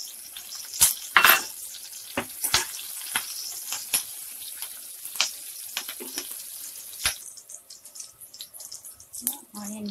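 Green chillies fry in hot oil for a vegetable Manchurian, giving crackling, spitting sizzles with several sharp pops early on that settle into lighter, intermittent frying.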